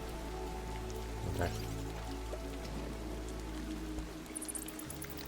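Water flowing and splashing in World of Goo 2, a steady rain-like patter and trickle under game music, continuous and close throughout.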